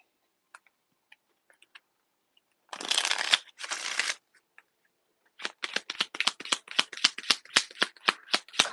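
Tarot cards riffled in two quick bursts, then a rapid series of sharp card snaps and flicks, close and crisp.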